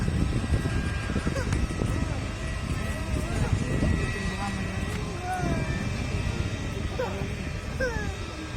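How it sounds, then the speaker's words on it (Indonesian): A Batik Air airliner departs from Silangit airport, its engine roar steady and moderately distant beneath people talking nearby. "Tengok dulu itu udah berangkat pesawat."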